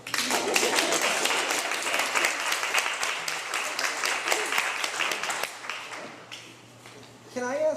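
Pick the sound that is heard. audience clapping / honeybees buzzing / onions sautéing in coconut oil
audience clapping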